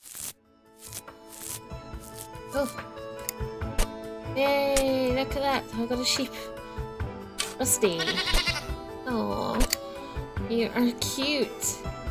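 Sheep in the island-survival video game One More Island bleat several times in wavering cries, mixed with game sounds and a person talking over them.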